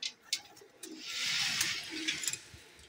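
Soft cooing from a baby pigeon in a pigeon-keeping setting, low murmuring calls with a breathy hiss in the background, moderately close and fairly quiet.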